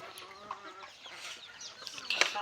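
Free-range village chickens and a rooster clucking at dusk, several soft close clucks and a sharper squawk near the end over quiet rural background, with faint talk nearby.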